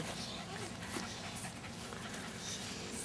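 Two puppies pant and whimper while playing close by, a steady breathy texture with small yips, under a continuous background hum.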